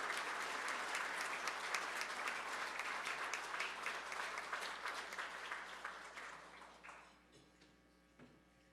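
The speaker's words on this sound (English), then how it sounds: "a round of applause to Eric Kuhl, one of our heroes for the home" Warm applause from a room of attendees at the Heroes for the Homeless 2021 honors, full and sustained before thinning to a few claps and fading out near the end.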